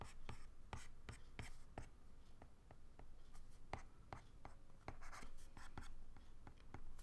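A teacher wipes a whiteboard clean after a trigonometry lesson, giving a steady run of short, scratchy eraser strokes and taps, close and fairly quiet, with no talking.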